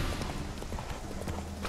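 Horse hooves clip-clop in The Witcher 3 as Geralt rides near water, a soft, steady trotting rhythm of muffled hoofbeats under faint ambient game sound.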